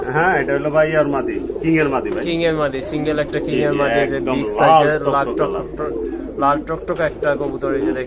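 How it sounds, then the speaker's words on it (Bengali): Pigeons coo softly and repeatedly beneath nearly continuous nearby talking, at a pigeon sale. "এখানে একটা সিঙ্গেল কবুতর দেখতে"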